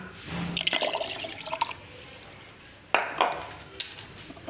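Water is poured from glasses into a mixture for homemade falsa sharbat, a summer fruit drink, giving a run of splashing and trickling followed by a few sharper pours, close up and with no talk.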